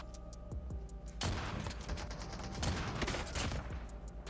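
Kilo Bolt bolt-action sniper rifle firing in Call of Duty Mobile, loud sharp reports followed by a dense burst of overlapping gunfire and game effects, with faint ticking clicks before the shots.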